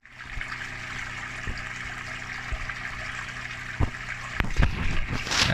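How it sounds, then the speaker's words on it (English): Water rushing into a flooded crawl space under a new house, a steady close trickling flow with a few knocks and clunks toward the end. "You can see that water just rushing in."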